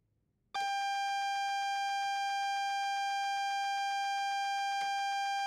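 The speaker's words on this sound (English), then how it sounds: "That alarm is the AWS self-test system." A steady, loud electronic alarm tone of the AWS self-test sounds abruptly in a cab in the Train Sim World video game and holds without a break, with a faint click near the end.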